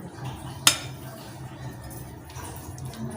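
Russian salad being stirred in a bowl, with a single sharp clink of a utensil against the dish near the start and soft scraping and mixing afterward, close up and without talk.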